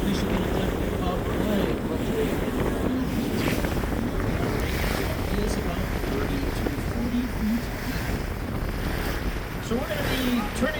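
A boat moves through water with a steady rush of waves and wind noise, continuous and close, while faint voices talk underneath.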